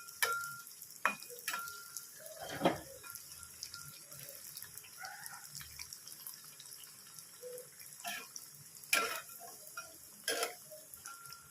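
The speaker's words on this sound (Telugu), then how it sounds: "ఇప్పుడు మనం నూనెలో వేసుకొని ఫ్రై చేసుకోవాలి" Moong dal vadiyalu, sun-dried green gram lentil wafers, frying in hot oil, with soft crackling and sizzle under scattered sharp clicks and taps, moderately close and fairly quiet throughout.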